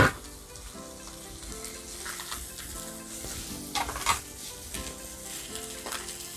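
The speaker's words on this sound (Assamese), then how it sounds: "মাছ ফ্ৰাই কৰোতে জুইডাল কমাই দিব লাগে" Fish frying in a kadai, a steady close sizzle with crackling oil and occasional stirring scrapes, no voices over it.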